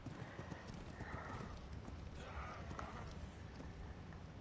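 Horse hooves clip-clop steadily in the game Scorched Earth, a continuous run of quick hoofbeats with a brief whinny-like tone partway through.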